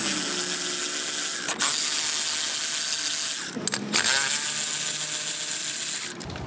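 Ratchet clicking steadily as it backs out an 11 mm boost tube clamp bolt on a 2000 Dodge Ram 2500 24-valve Cummins turbo diesel, close and continuous with brief pauses, no talking.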